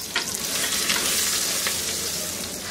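Chopped onions fry in hot oil with cinnamon and bay leaves, giving a loud, dense, continuous crackling sizzle with faint stirring clicks, close up and without speech.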